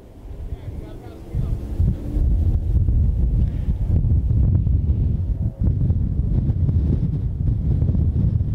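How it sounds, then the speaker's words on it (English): Gusty wind buffets the microphone in a loud, low roar at Willow Springs International Raceway during a Super Late Model race, with a faint engine sound in the background. "it's a little windy up here today"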